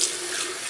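A faucet streams water to rinse off a Gillette Ball End Tech double-edge razor, a brief steady splashing hiss, close and alone.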